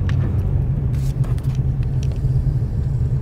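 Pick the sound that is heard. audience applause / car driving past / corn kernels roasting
car driving past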